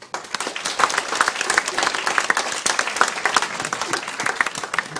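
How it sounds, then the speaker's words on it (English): Wedding guests break into sustained, dense clapping at a reception speech, steady and lively for the full span with a few voices mixed in the crowd. "so a round of applause, please"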